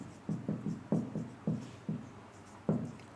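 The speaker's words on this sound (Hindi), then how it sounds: "दूसरा सेंटेंस लिखता हूँ मैं" Pen or pencil scratching across paper as a sentence is written by hand, a close series of short quick strokes in an irregular rhythm.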